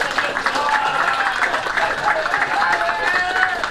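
A small quiz audience claps for the tenth-place team, a dense continuous patter of hands lasting nearly four seconds at an even, moderate level with some voices mixed in.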